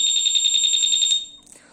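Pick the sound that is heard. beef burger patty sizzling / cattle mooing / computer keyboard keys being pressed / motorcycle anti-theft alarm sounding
motorcycle anti-theft alarm sounding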